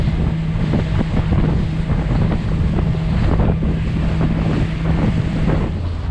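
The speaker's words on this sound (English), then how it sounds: "we got a nice breeze coming from the south" A steady south breeze blows over open water around a fishing boat near a reef at sunset, buffeting the microphone in a constant loud rush, with faint lapping waves beneath.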